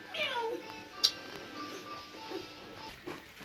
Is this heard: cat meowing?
yes